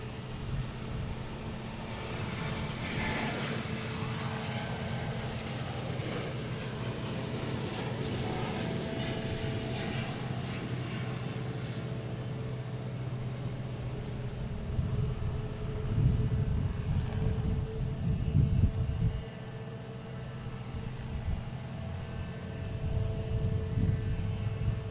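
Lufthansa and ITA airliners at Boston Logan, one bound for Rome, produce a low, distant jet rumble with tonal engine whine, swelling somewhat louder toward the end, without speech.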